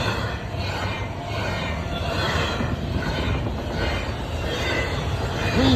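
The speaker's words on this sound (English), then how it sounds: "Now that's CSX Rail 1 heading out east." A CSX freight train heading east rumbles past nearby, a loud steady roll of wheels and railcars with faint clicking and squeal, lasting throughout.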